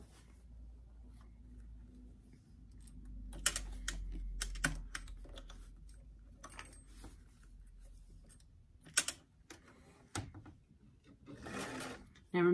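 A sewing machine stitches the shoulder seam of a doll dress for a Robert Tonner doll, a low steady hum broken by sparse sharp clicks and taps, with a person talking at times.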